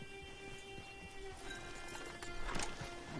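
Horse in a video game, hooves clip-clopping in an irregular rhythm with a short whinny late in the clip, fairly quiet under steady game ambience.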